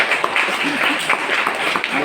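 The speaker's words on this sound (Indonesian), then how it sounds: "tepuk tangan dulu untuk kita semua" Applause from a school report-card ceremony audience at an Indonesian Islamic junior high, a continuous patter of many hands clapping, moderately loud, with a voice speaking over it.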